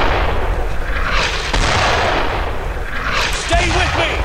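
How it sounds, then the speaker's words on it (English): Mortar fire in a World War II combat video game set in June 1944, with heavy booms and rumbling blasts over dense battle noise, and shouting soldiers mixed in. "Mortar fire now."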